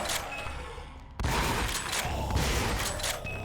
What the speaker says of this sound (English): Very decent firing rate too, especially for a shotgun.